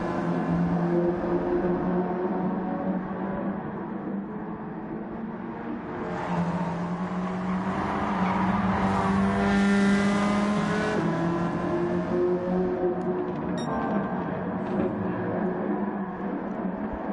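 Race cars in Gran Turismo 7 during a CASCAR Cup Series stock car event, the Jagerbomb Grand Prix, with several engines droning at high revs, swelling louder mid-race as cars close together, then settling into a steady roar with no talk.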